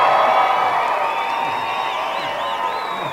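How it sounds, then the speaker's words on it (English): A university commencement crowd at Tarleton's fall 2017 ceremony cheers for its graduates with loud, sustained roaring, whoops and high shouts that slowly ease off while staying strong throughout. "You are allowed to cheer for your graduates."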